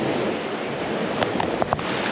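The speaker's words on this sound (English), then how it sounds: "Water's coming in now." Ocean waves surging into a seaside cave on a coral coast, a broad rushing wash with wind buffeting the microphone and a few splashy bursts near the end.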